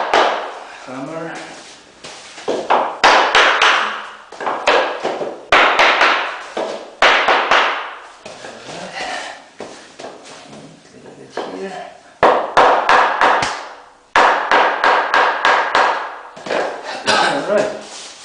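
Hammer tapping laminate flooring boards together during a carpet-replacement floor install, sharp repeated knocks in quick rhythmic bursts across the span, loud and close, with a voice talking in between.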